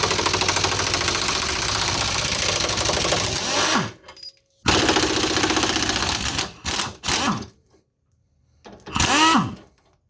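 An impact wrench removing control arm bolts on a Z31 during a suspension install, sounding in long loud rattling bursts near the mic with brief pauses, then shorter stuttering hits.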